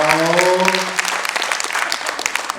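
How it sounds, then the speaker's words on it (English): A crowd at a dance event claps loudly and steadily while a sustained sung tone fades out at the start. "please clap for her"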